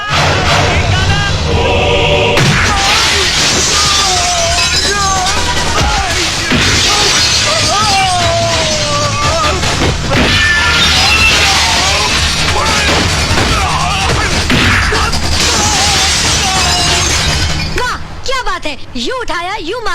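Glass shatters in a Hindi action film fight scene from Badal, crashing and breaking within a loud, dense mix of music, impacts and voices that carries on almost without pause.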